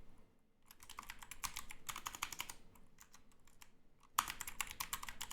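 Code being typed on a computer keyboard, bursts of quick close key clicks separated by short pauses, fairly quiet with no voice.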